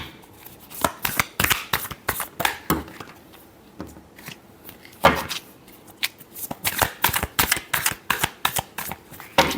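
Tarot cards are shuffled by hand in rapid, crisp riffling flutters and soft slaps, close and continuous with brief pauses between bursts.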